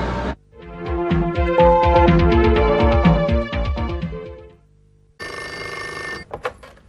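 A telephone bell rings in a guest house scene from a classic TV drama, with rapid repeated ring bursts that are loud and close. After a brief pause, a second burst of ringing follows.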